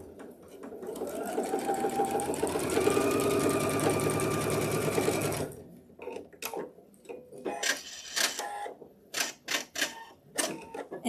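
A sewing machine stitches quilt pieces together in a steady, fast, continuous run for about five seconds, then stops. Scattered clicks and handling noises follow.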